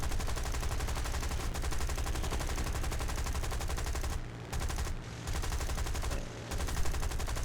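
Hawker Hurricane Mk II machine guns firing in War Thunder: long, loud, rapid bursts with a few brief pauses between volleys near the end, no voices.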